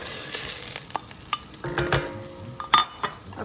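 Onion and herbs for chorba or tajine fry in a pot with a little water, giving a soft sizzle under intermittent stirring and the clink of a utensil against the pot, all close and fairly quiet.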